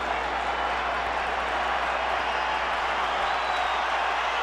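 Stadium crowd of about 51,000 roaring during the Pacquiao vs Joshua Clottey boxing fight, a steady dense wall of cheering and noise throughout with no break.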